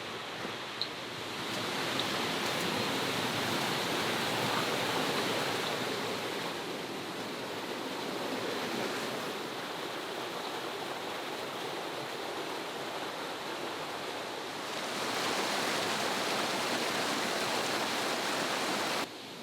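The Webburn River runs beneath a bridge near an old mill house, a steady broad rush of moving water that swells and eases slightly over time.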